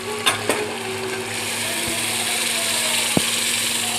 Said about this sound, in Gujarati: હવે આપણે અડદની દાળ નાખી દઈશું